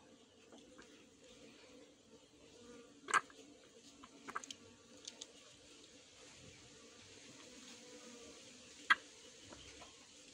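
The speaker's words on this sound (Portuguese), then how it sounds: "aqui já é outra abelhinha aqui, ó, que já vem para se alimentar" Stingless bees buzz faintly during a syringe honey harvest from a meliponary hive, with a few sharp close passes of a single bee against a quiet background.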